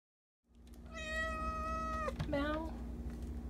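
A pet cat meows in a drawn-out call, then a second shorter meow, close and clear over a steady low background hum, with no talk.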